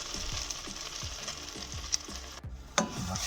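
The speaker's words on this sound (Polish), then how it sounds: "I taką łyżeczkę ostrej papryki zasmażę." Ground hot paprika frying in a pan for beef and chicken tripe soup, with a continuous close sizzle and a regular low scraping rhythm of stirring, plus a couple of sharper clicks.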